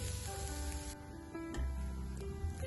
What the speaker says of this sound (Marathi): अशा पद्धतीने फिरत फिरत छान आपण गोल्डन होईपर्यंत आपण नारळ छान भाजून घेऊया